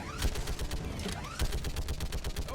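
Rapid gunfire in a science-fiction shooter game on a hard difficulty setting, with dense bursts of automatic shots cracking close and loud, some brief pauses between volleys and a faint whooshing sweep in the background.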